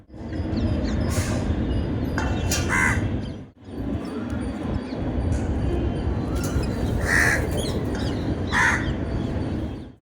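Several crows caw loudly and repeatedly on a terrace. Their harsh calls come in bursts over steady outdoor background noise.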